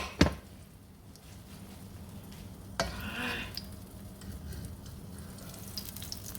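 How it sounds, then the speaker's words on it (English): Eggs dropped into a hot pan sizzle with a constant close frying hiss, broken by a couple of sharp scrapes or clacks of a utensil against the pan; no talking. "Give our eggs a good fry."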